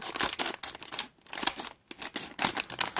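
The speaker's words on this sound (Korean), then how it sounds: "가위로 잘라줄게요." Scissors cutting open a packet of melon pudding mix, with repeated crisp crinkling snips of the plastic wrapper in three quick bursts separated by brief pauses, close and clear.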